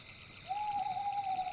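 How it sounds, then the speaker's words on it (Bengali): A strange bird call in a dark jungle of big trees: one long, steady, owl-like hoot starts after a short pause and holds to the end, alone over a faint background hum. "চারদিকে অদ্ভুত পাখির ডাক আর বড় গাছের অন্ধকার পরিবেশ।"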